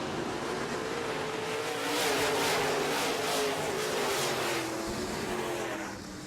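Modified race cars at a track as the race starts, a distant broad roar of several engines swelling and fading over a few seconds, heard faintly through open-air noise without speech.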